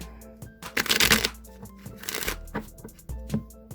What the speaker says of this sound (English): I'm actually going to give these one more shuffle,